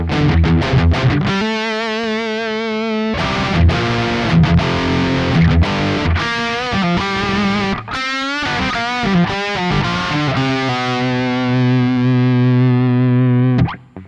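Distorted electric guitar played through an amp modeler with its reverb effect switched on, sustained chords and single notes ringing out with lingering tails, alone and fairly loud.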